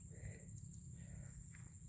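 Grasshoppers and other insects chirp faintly in a Thai rice field, with a steady high-pitched trill running throughout over low background rumble.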